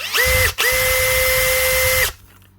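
A worn Makita DHP483 compact cordless drill runs in slow-speed drill mode, whining steadily up close, cutting out briefly once, then spinning again for about one and a half seconds before stopping.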